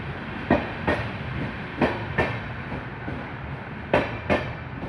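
A crowded Konkan Railway passenger train with general coaches rolls along, a constant rumble broken by sharp, regular clickety-clack wheel beats over rail joints, heard close.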